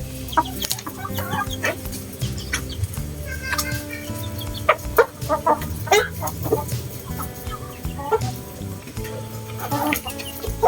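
Free-range Rhode Island Red, brown Dekalb and black Australorp chickens cluck steadily, with repeated clucks and calls from several birds over a continuous farmyard background.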